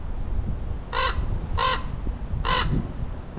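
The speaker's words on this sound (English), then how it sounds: "See a crow on the top of the Dolbear mausoleum here." A crow caws three times in a cemetery among mausoleums, loud harsh calls in an uneven rhythm over a low outdoor background hum.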